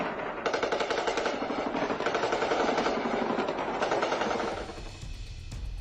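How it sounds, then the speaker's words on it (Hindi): Rapid automatic gunfire at the Durand Line on the Pakistan–Afghanistan border, long dense bursts of shots at middle distance that fade toward the end, no voices. "यहीं पर ही फायरिंग की आवाज सुनाई दे रही"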